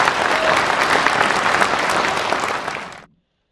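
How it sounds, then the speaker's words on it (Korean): A crowd at a book launch event breaks into loud, dense applause that holds steady for about three seconds and then cuts off abruptly into silence. "이렇게 박수 한번 주세요"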